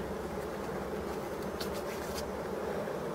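Bees buzz around abandoned, rotten forest hives, a steady close hum filling the air without pause.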